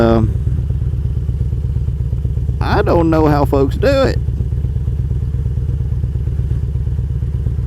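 A Harley-Davidson motorcycle engine drones steadily throughout, loud and close, heard from the back seat while riding, with someone talking briefly over the rumble midway.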